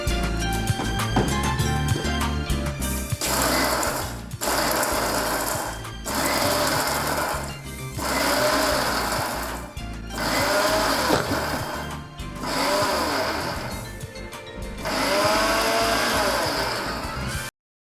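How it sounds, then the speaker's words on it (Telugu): Mixer grinder pulverizing spices into powder, a loud whirring motor run in repeated pulses of about two seconds each, separated by short pauses. "సో జస్ట్ ఇట్లాగా తీసుకొని ఫస్ట్ మిక్సీ చేద్దాం"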